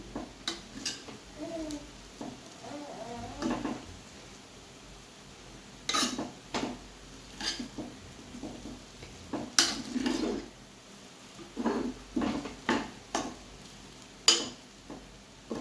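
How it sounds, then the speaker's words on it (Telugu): Fried rice with coriander being stirred in a pan, a series of close metallic scrapes and clinks of a spoon against the pan in irregular bursts, with a faint sizzle underneath. "దీన్ని మొత్తం ఒకసారి మిక్స్ చేసుకుందాం"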